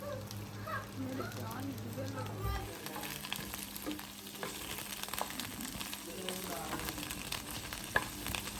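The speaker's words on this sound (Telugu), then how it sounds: "ఇప్పుడు నేను ఆయిల్లో అయితే ఫ్రై చేస్తున్నాను" Okra (bendakaya) fries in oil with a steady, close sizzle and crackle, broken by occasional stirring clatter, while a voice talks over it.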